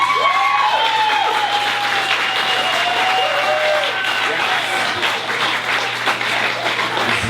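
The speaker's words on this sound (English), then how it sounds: "I want to have a big round of applause for all of the friends of comedians that came out tonight." Steady, loud audience applause fills a stand-up comedy club, dense clapping with scattered whoops and cheers from the crowd, continuing for several seconds without a break.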